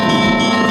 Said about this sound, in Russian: одиночные удары в большие колокола